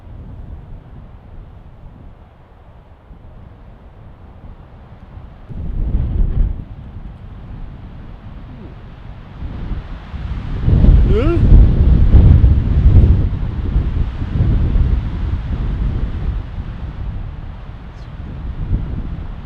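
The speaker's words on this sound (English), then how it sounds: "it's getting windy up here" Wind buffets a microphone on an icy mountain hike through snow and ice, a low rumble that swells in strong gusts around the middle and keeps roaring loudly to the end, with no voices.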